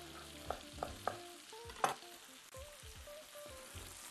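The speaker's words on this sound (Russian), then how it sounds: "Как жарится наш лук?" Onions and ginger fry in a pan with a soft, steady sizzle, broken by a few sharp clinks and scrapes of stirring, close by and with no talking.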